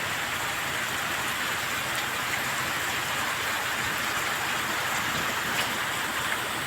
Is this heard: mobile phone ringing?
no